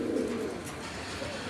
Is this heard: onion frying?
no